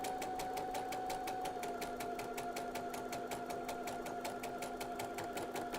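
A sewing machine fitted with a gathering foot stitches fabric, a rapid, even mechanical clatter with a steady motor hum running continuously at close range.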